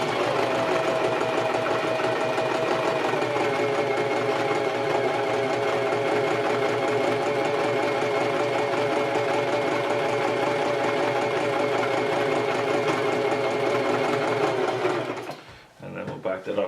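A sewing machine stitching a zigzag seam on a water-resistant hockey skate boot cover, running in a loud, steady, continuous hum close by for about fifteen seconds before stopping abruptly.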